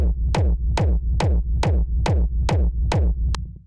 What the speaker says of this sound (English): just like a real hard-hitting, punchy 909 kick.